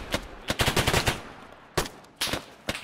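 Bursts of video game gunfire aimed at security forces among trees during a coup, irregular volleys of rapid shots with short pauses between them, loud and close.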